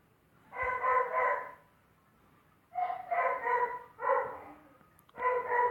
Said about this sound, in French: le chien qui va essayer de me déconcentrer en plus